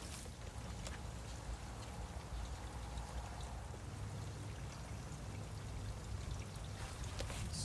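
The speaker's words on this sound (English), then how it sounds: "So you rinse all of the soil and dirt off of your plants, so you just have your roots" Strawberry plant roots being rinsed in nutrient-rich aquaponic pond fish water, a steady close splashing and pouring wash that runs without a break and with no talking.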